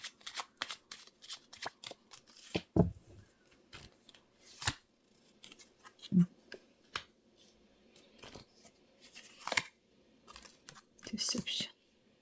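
Tarot cards shuffled by hand in repeated riffles and quick slaps, crisp and close, broken by brief pauses and a couple of soft thumps, with no one speaking.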